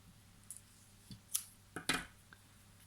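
Scissors snip through a small piece of string during a craft project with glitter on MDF, giving a few quiet, crisp cuts spaced out over a near-silent background.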